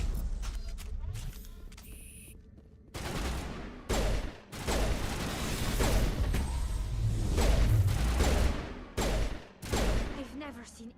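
Rapid gunfire bursts and impacts in a sci-fi shooter battle against Rachni creatures, loud repeated shots in several clusters under game music and effects, with occasional voices.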